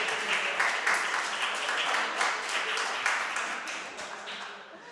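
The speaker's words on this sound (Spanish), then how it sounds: "un aplauso a Carlos, hombre" An indoor audience at a talk on school playground renaturalization applauds Carlos with steady, close clapping that fades slightly toward the end.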